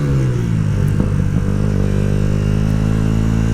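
A Yamaha YZF R125 motorcycle engine idles close by, a steady low even hum with a faint rattle, holding constant without revving.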